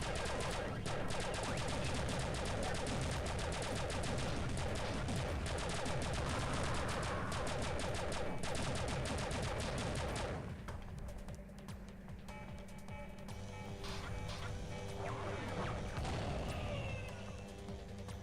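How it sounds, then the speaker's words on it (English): Retro-style video game explosions and weapon fire in a Tron-like arena, a dense, loud continuous barrage of crackling blasts and rapid bursts, thinning into scattered booms and electronic effects toward the end. "I love the old school explosions."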